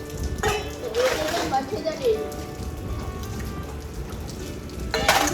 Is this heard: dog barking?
no